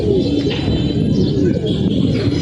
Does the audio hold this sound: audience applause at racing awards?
no